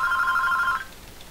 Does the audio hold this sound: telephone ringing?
yes